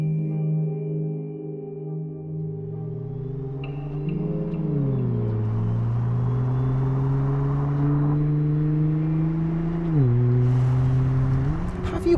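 A Nissan GT-R engine drones steadily on a public road, its pitch climbing and stepping through gear changes, loud and close with a rising whine and no talk.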